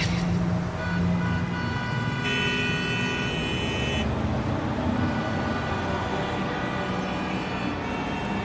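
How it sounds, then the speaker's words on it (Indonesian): Road traffic stands still in a jam, with a steady wash of idling engines and street noise and several horn toots and buzzy tones sounding over it, near and fairly loud. "mobil berhenti lagi karena macet."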